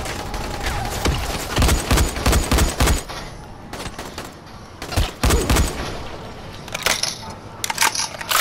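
Bursts of gunfire from the zombie survival video game Dying Light: clustered rapid shots around the two- and five-second marks, then scattered single cracks, loud and close against a steady in-game background.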